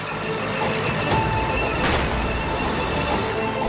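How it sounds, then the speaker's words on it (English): A heavy tank engine rumbles and roars steadily nearby in a war zone in Gaza, with a faint repeating high beep in the background. "Tanks roar."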